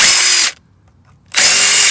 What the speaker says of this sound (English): Let's see if we can get them off with the drill first.